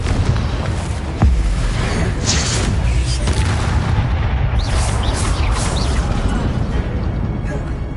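A Confringo fire spell blasts in Hogwarts Legacy, a loud, booming explosive roar that fills the whole stretch with dense, continuous rumble and crackle, with a sharp hit near the start.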